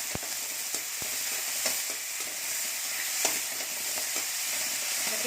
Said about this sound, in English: Then I have used nearly 2 onions finely chopped. I will give a nice mix for that.